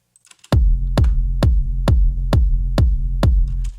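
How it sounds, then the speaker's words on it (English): Eight punchy electronic kick drums in a steady four-on-the-floor pulse, each layered with a sustained Sublab sub bass that fills the low end between hits in a future rave track, loud and up close after a brief quiet lead-in. "So I layered the sub bass behind the kick so it sounds like this."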